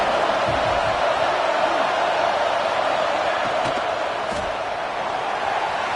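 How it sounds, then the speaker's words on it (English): Stadium crowd at a Michigan vs. Michigan State football game, a dense continuous roar of thousands of fans filling the air, steady and loud without breaks. "This crowd bringing the energy and noise early."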